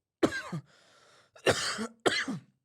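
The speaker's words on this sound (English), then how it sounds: "sorry for coughing the whole time" Three harsh coughs in a row, the first two close together, then a pause and a final one, close and loud.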